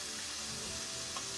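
Chicken fries in a skillet of hot grease, giving a steady, dense sizzle that holds without a break, with no voices over it.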